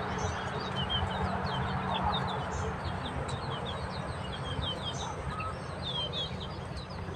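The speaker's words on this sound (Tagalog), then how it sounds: "ang aking mga alaga na manok andyan pala sila kumain." Chickens clucking softly while eating amid a busy outdoor backdrop, with high bird chirps scattered throughout and a steady low rumble underneath.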